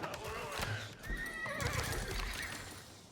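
Horses neigh and whinny as mounted archers take to their horses in the Age of Empires 4 strategy game, with hoof clip-clop and busy game sounds beneath, fairly faint throughout.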